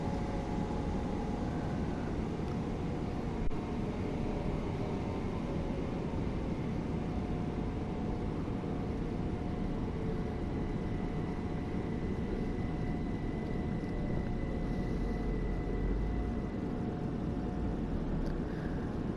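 A train stopping under emergency braking, heard from inside as a steady, loud, rumbling roar with a faint whine that holds throughout and only shifts slightly near the end, with no voices.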